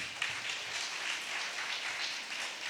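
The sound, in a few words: audience applause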